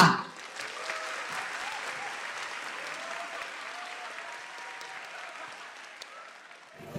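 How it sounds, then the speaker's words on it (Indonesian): An audience at a live stand-up comedy show claps for comedian Raditya Dika; steady, even applause from a sizeable crowd carries on for several seconds before trailing off at the end. "Beri tepuk tangan yang meriah untuk Raditya Dika."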